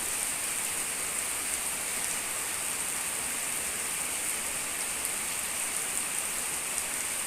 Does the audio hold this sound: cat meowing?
no